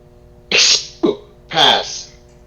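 A person imitates a sneeze with three loud, close bursts in quick succession, each a sharp exhaled burst over a quiet room background.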